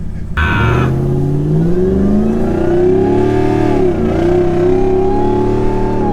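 A supercharged Hellcat V8 swapped into a 750-plus horsepower Jeep Gladiator Recon accelerates hard, its loud engine roar and supercharger whine climbing steadily in pitch for several seconds, close and dominant with no talk.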